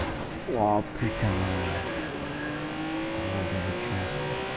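A car engine in the game Watch Dogs 2 revs and climbs in pitch, with a sharp rising sweep early on, then drones steadily at a strong, close level while a man briefly exclaims.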